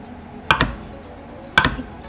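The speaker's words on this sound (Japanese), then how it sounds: "お豆腐をちょっと大きめのね、さいの目切りにしていきます" Two distinct knife strokes dicing tofu into cubes hit a cutting board about a second apart, each a crisp thud against a quiet background.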